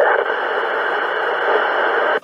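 Steady hiss of a keyed CB radio microphone carrier during an on-air roll call, a constant loud static rush that holds for about two seconds and then cuts off abruptly.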